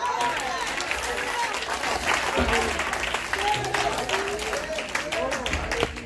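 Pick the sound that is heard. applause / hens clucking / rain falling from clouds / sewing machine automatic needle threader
applause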